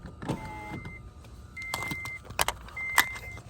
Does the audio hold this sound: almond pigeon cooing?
no